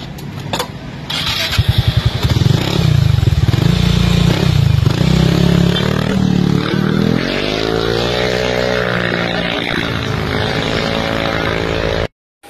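A Yamaha Mio i 125 scooter revs loudly through an aftermarket Sun Power exhaust pipe, a burst of throttle blips early, then a long rising and falling roar that cuts off abruptly.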